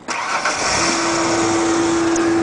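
A Ford Aerostar minivan engine turns over and catches, then settles into a steady, close idle with a constant hum.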